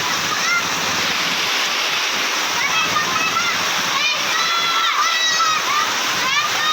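Floodwater rushes through a village street in Kasiglaan Village, Montalban, Rizal, a constant loud splashing torrent with voices talking and calling out over it.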